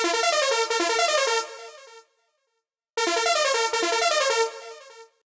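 A bright, brassy synth stab, a modified Mr. Brass preset from the Roland JD-800, swells and holds for about two seconds, stops, then repeats once, buzzy and horn-like with rich harmonics.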